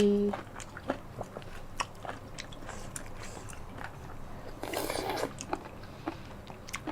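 Crunchy chewing of enoki mushrooms dressed in mala sauce, with close, quiet bites and crisp crunches at an irregular pace, plus a brief burst of rustling noise.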